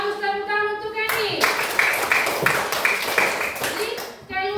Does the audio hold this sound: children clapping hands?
yes